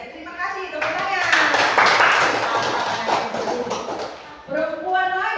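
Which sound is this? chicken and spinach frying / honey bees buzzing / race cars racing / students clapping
students clapping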